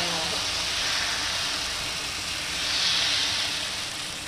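Ragi (finger millet) dosa batter poured onto a hot pan, giving a broad, steady sizzling hiss that swells slightly midway and persists throughout without speech.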